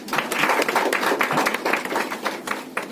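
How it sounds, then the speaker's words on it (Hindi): A crowd at a Trinamool Congress Hindi cell teachers' event in Naihati's Samaresh Basu hall gives steady, dense applause, with many hands clapping together at a moderate distance. "जोरदार ताली"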